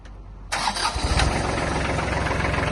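A Kubota L1-215 Japanese mini tractor engine cranks briefly and catches, jumping from quiet to a loud steady diesel idle that chugs on evenly, close by and without talk.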